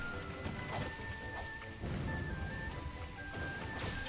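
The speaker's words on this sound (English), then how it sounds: "So, it's raining." Steady rain pours in the video game Hyrule Warriors: Age of Calamity, a dense, even hiss under faint music tones, with a few soft thuds and cracks scattered through it.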